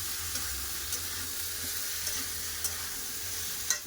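Ridge gourd, potato and onion sautéing in a pan, a soft continuous sizzle under faint stirring scrapes with a few light clicks, close and fairly quiet.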